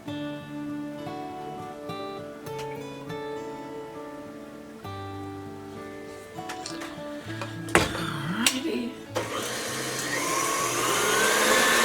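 An electric mixer beats butter and sugar together for cookie dough, its whirring growing louder and steadier toward the end over a musical background.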